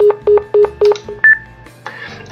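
Telephone keypad tones in the Nekopara visual novel: four loud, evenly spaced dial beeps, then a couple of shorter tones and a ringing signal, with faint background music underneath.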